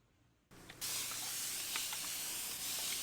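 A spray bottle mists water onto microgreen seeds: after a quiet start, a sudden continuous hissing spray sets in and holds steady, with faint pulses of the trigger.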